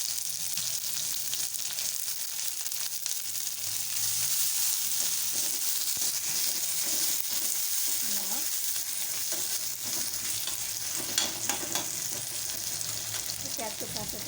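Chopped onions fry in hot oil with a steady, dense sizzle close up, with occasional faint stirring sounds over the continuous hiss.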